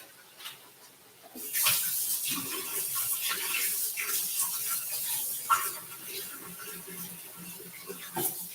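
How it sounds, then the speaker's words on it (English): Water runs from a kitchen tap while hands are washed under it, a steady faint splashing rush that starts abruptly and carries on with small clinks and shifts throughout. "Wash my hands."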